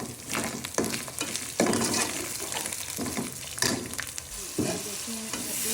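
Whole cumin, cloves and cardamom fry with onions in hot oil, giving a loud, continuous sizzle broken by bursts of stirring and scraping in the pan, up close and with no talking.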